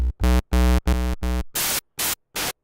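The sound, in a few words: noise waveform from Roland SP-404MKII sound generator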